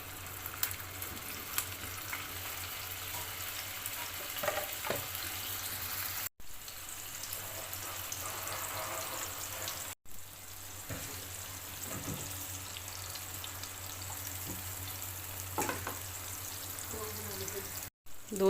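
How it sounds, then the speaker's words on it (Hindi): Chandan kababs shallow-fry in a pan over a medium flame, a steady close sizzle with scattered pops and clicks, broken by a few brief dropouts. "अब कबाब्स को ऐड कर दूँगी। फ्लेम मीडियम ही रहेगा, क्राउडेड नहीं करूँगी।"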